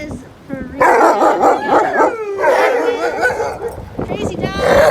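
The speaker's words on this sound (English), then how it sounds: "Crazy dog." Excited barking and yipping from a dog, bursts of close yaps and whines coming in quick succession, mixed with a person talking over it.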